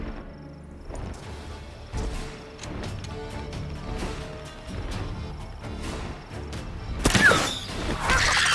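Rapid bursts of gunfire aimed at the silver basilisk, a series of sharp repeated shots spread across several seconds, ending in a louder crashing flurry.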